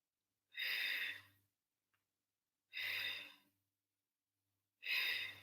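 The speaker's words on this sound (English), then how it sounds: "Inhale and exhale." Three slow, deep breaths during a Pilates mat workout, each a breathy, airy sigh lasting about a second, evenly spaced with silence between, close and clear with no talking.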